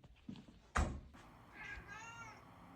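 House cat giving a single drawn-out meow near the end, quiet and close, preceded by a sharp knock or thump.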